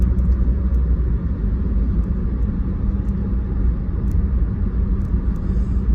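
A car cruising steadily on the road with cruise control engaged, a constant low engine and tyre rumble filling the interior without a break, no voices.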